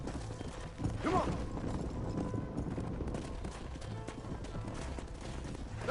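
Horse hooves clip-clopping near a stable in the Red Dead Redemption video game, a quiet, steady run of footfalls under faint game ambience.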